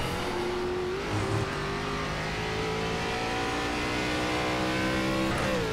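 A stock car engine in iRacing's ARCA Menards Series on the Daytona road course drones loud and steady at high revs, shifting pitch through gear changes, with no talk.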